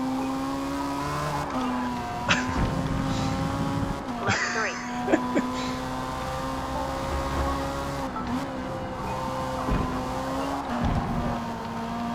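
A Class A race car in Forza Motorsport 8 revs hard with a steady high engine whine, shifting pitch through gear changes, with brief tire squeals in the corners and occasional talking over it.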